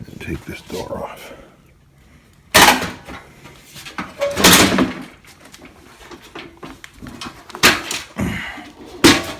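The door of a Whirlpool Kenmore clothes dryer is taken off: several loud metallic clunks and thumps at uneven intervals, with speech in between.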